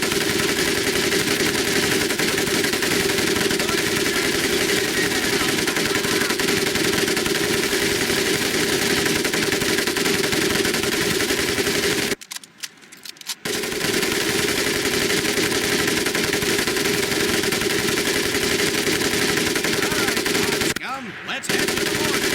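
Mounted machine gun in the video game Medal of Honor Pacific Assault firing loud, sustained automatic bursts close up, broken by two short pauses, with a steady engine-like drone beneath.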